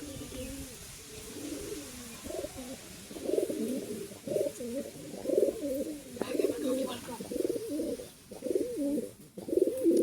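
A female pigeon coos in repeated soft throaty rolls, close by, in uneven bursts as she is let go, with brief rustling moments between calls.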